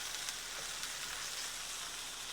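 A thick steak sizzles steadily in a hot frying pan, a close, even, crackling hiss with no pauses and no voices.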